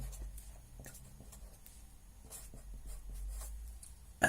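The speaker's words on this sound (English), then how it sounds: "So I'm going to write that down for you as well." A pen writes notes on paper in faint, close scratching strokes and short taps, soft and intermittent with quiet pauses.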